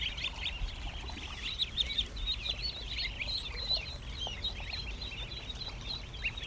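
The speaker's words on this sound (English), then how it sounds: "Everybody's all around me here. Little wet ducks." A flock of wet, affectionate ducks crowds close around a person on a farm, giving a steady chatter of overlapping quacks and clucking calls, near and fairly busy, with no talk.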